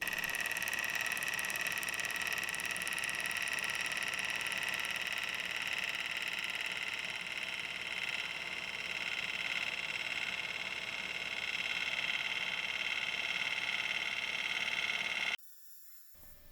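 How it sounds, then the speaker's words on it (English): A woodturning lathe cutter screeches against copper pipe on a bamboo and copper hollow form in a steady, high-pitched whine with a hissy edge that holds for about fifteen seconds, then stops. "I left that clip in there so that you could actually hear the cutter hitting that copper"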